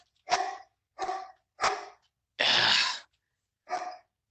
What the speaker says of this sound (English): Can y'all hear the dog?